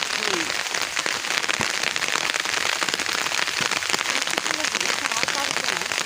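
Sudden steady rain pours down in a village, a dense, even hiss of drops drumming on surfaces with scattered sharper splats, continuous and close throughout.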